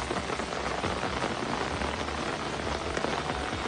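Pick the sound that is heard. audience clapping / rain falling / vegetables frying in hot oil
rain falling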